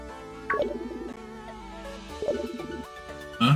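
A Rotom Phone in Pokémon Shield rings with a bright electronic melodic jingle, two repeated phrases of chirpy tones, clear and up close.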